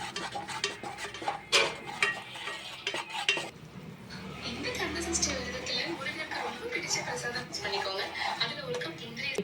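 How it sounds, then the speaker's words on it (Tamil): Continuous stirring of a thick, lump-prone mixture in a pan, a steady scraping swirl with a faint sizzle running throughout, close and fairly loud, with a few louder utensil knocks near the start. "நல்லா மிக்ஸ் பண்ணணும் கட்டி வரக்கூடாது இதை நல்லா மிக்ஸ் பண்ணிக்கிட்டே இருக்கணும்"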